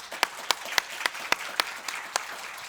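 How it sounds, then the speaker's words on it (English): Applause from a conference audience after a fireside chat on leadership and enterprise AI, a steady wash of many hands with sharp periodic claps standing out roughly every quarter second, moderately loud and without talk. "One big round of applause for Natali Delic."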